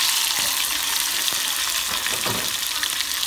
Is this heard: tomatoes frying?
yes